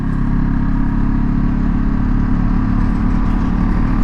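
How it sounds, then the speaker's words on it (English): A Honda Scrambler 500 (2026 SCL500) twin engine runs steadily while riding on the road, giving a smooth, continuous mid-pitched drone with a low rumble, loud and close. "Like I said, a very mild mannered engine."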